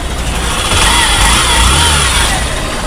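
A Hero Passion Pro BS6 motorcycle engine idles up close, giving a loud, steady mechanical hum with a low throb and noisy wash, unbroken and without speech.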